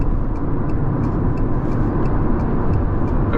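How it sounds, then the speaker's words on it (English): Fiat 500e retro electric car driving, with a steady, continuous road and motor drone running loud and even throughout, low rumble dominating and no voices. "you hear a lot of noise from the motor, but not a lot of like pickup"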